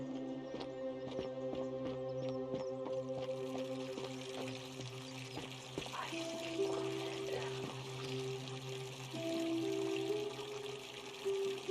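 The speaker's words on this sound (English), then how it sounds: "A fountain producing fresh water, which is coming from the aqueduct behind it." A fountain fed by an aqueduct in the game The Forgotten City produces quiet, continuous flowing and trickling water, with soft scattered drips and ambient tones underneath.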